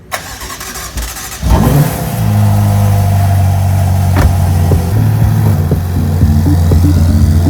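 A Ferrari GTC4Lusso T turbocharged engine starts after some handling noises, then settles into a loud, close, steady low idle with slight revs as the car is brought out, no talking.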